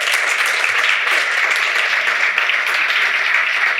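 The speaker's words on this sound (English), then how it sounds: "One more round of applause for our panelists." A crowd applauds panelists at the close of a community policing forum, a thick continuous patter of clapping that holds loud and level from start to finish.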